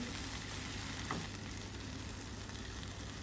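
Cactus, anchovies and oyster sauce sizzle steadily in a hot pan with a constant frying hiss, and a faint scrape of stirring partway through.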